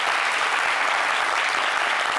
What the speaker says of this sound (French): On applaudit déjà.